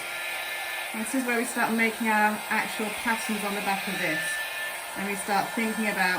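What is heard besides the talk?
hair dryer blowing alcohol ink on glass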